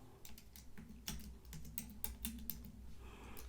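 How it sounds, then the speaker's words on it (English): Keys on a computer keyboard are tapped in a quick, uneven burst of close, light clicks over a low steady room hum, with no voices. "I'm going to type in Alfresco"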